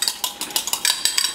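A fork whisking a raw egg in a mug, a quick run of light, rhythmic clinks and taps of metal on ceramic at close range, with no voices.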